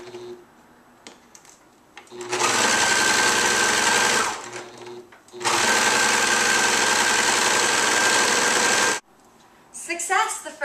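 A sewing machine zigzag-stitches a jersey t-shirt in two long, loud, steady bursts of whirring with a pause between them, and a voice is heard briefly at the very end.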